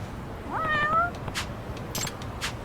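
A single close, clear cat meow from the Lost Judgment video game, rising then trailing off, followed by faint clicks and soft ambient background.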